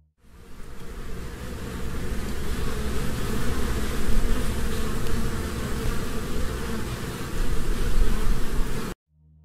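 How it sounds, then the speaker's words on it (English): A swarm of bees or similar insects drones in a dense, steady buzz that fades in, holds loud and close for several seconds with slight swells, then stops abruptly, heard alone in an eerie Minecraft ARG setting. "The sounds of bees or some other insect plays over this"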